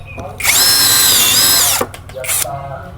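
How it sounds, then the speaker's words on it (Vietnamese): A Hukan 55 N cordless drill with a 2-in-1 auto-lock chuck runs close by in a loud, steady whine lasting over a second, then stops and gives a shorter burst, with faint talk in between. "Thân máy khoan Hukan này nè anh em"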